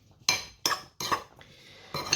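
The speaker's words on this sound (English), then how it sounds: "So then I'm going to get a bowl. I'm just going to mix that around." Seasoned prawns being mixed in a bowl, with four separate clinks and scrapes of a utensil against the bowl, close and fairly quiet, and no talking.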